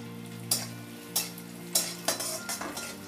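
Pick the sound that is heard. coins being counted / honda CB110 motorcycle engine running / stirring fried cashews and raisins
stirring fried cashews and raisins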